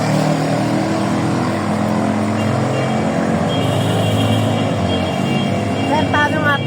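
Steady engine noise fills the air as a stream of vehicles moves along a road near a beach resort in Ternate, Cavite, loud and close, with people talking over it and a brief horn-like tone near the end.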